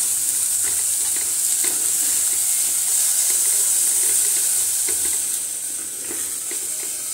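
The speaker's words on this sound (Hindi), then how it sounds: "इसको अच्छे से मिक्स कर लेते हैं।" Food frying in a pot crackles and sizzles steadily while a utensil stirs it with soft scrapes, close up and with no talking.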